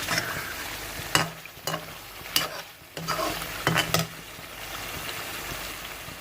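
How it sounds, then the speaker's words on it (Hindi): Peshawari-style charsi chicken karahi with black pepper is stirred and roasted in oil, with a steady frying sizzle broken by several sharp scraping strokes of a spoon against the wok, close and moderately loud. "अब हमने इसकी अच्छी तरह भुनाई थोड़ी सी करनी है"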